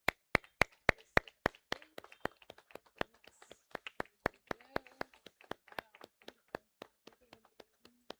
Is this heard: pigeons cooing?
no